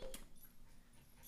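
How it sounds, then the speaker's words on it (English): A dog gives a few soft whimpers and yips, faint and brief against low room noise, heard alone without speech. "Oh, is that your dog?"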